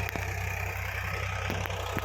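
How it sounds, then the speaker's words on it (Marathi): A diesel tractor engine ploughing a field in the rain runs with a steady low throb and regular knocking pulses, mid-distance and even, with a few faint clicks and no talking. "नांगराय चालू आहे बाबाला दिले ट्रॅक्टर नांगरायला"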